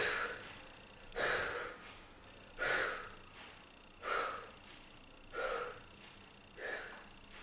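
Heavy breaths exhaled during a core exercise, five slow rhythmic puffs spaced about a second and a half apart, close and fairly soft.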